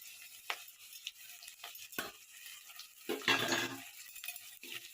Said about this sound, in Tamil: கருவேப்பிலை ஓரளவுக்கு வதங்கினா போதும்